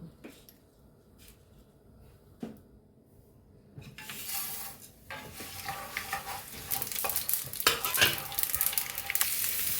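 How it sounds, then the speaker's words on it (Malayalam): Tomatoes and masala fry in ghee in a pan for chicken kadai masala, beginning with a few quiet clatters and stirs before a loud, steady sizzle takes over from about four seconds, with scraping strokes throughout. "ഇതെല്ലാം നമുക്ക് വറുത്തെടുക്കാം"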